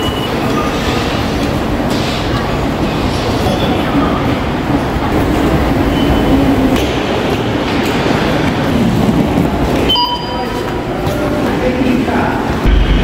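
A Busan–Gimhae light rail train pulls away from a station, a continuous loud roar of wheels and motor with rhythmic rail clatter and a brief metallic squeal near the end, heard close from the platform or inside.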